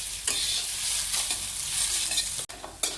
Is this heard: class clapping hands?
no